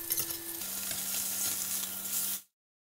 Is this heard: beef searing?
yes